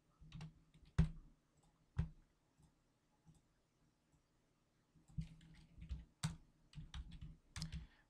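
Clacky keystrokes on a computer keyboard, close and distinct, arriving in uneven bursts with pauses, some strokes sharper and heavier than others, in an otherwise quiet room.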